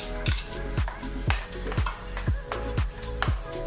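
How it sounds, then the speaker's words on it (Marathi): Rice is mixed into boiling sambar dal in a pot, with a loud, rhythmic series of about seven scraping, clanking spoon strokes over a continuous bubbling hiss. "हे छान मिक्स करून आपल्याला झाकून ठेव।"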